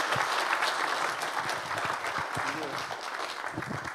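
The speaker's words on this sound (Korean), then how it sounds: "우리 크게 박수해 주시기 바랍니다." A church congregation applauds at a dedication and founding service, a steady wash of clapping that carries on throughout, somewhat distant, with a few voices underneath.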